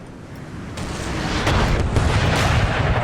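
Cannon and musket fire in the Napoleon Total War battle game as British and Prussian lines exchange fire in a forest, a dense continuous rumble of booms and crackling volleys that swells louder partway through.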